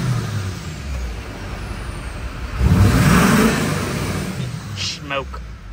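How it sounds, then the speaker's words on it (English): A cheap used Duramax diesel pickup idles and revs with a rising turbo whoosh, the engine growling steadily close by while people talk. "Do you hear the turbo?"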